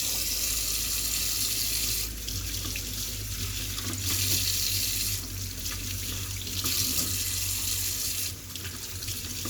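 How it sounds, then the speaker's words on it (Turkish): Lettuce washed under a running kitchen tap, a steady continuous water stream splashing into the sink, with louder surges and slight shifts in flow throughout, no talking. "onlar pişerken yıkayayım şu marullağımı"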